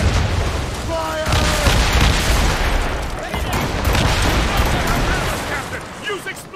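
Ship cannons firing during a naval battle in Assassin's Creed Rogue, a dense run of booming blasts and crackling bursts over roaring battle noise, with a voice shouting over it.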